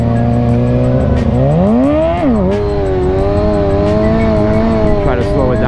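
Motorcycle engine held at steady throttle during an intermediate wheelie, brake controlling speed: a loud, close, sustained drone whose pitch dips and rises as the revs shift, with no talk over it.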